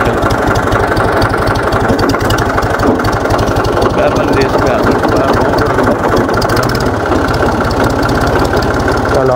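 A tractor engine runs loud and close as it drives in gear, a steady low rhythmic chugging with a slight shift in tone near the end.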